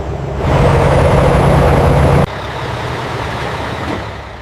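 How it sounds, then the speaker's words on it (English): Heavy refrigerated truck carrying frozen fries, its loud engine rumbling steadily close by, with a long hissing air-brake release that cuts off abruptly, leaving a lower, steady idle. "A fleet of refrigerated trucks departs daily, carrying frozen fries across the nation"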